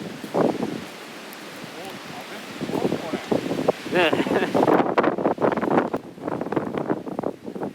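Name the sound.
wind blowing on microphone outdoors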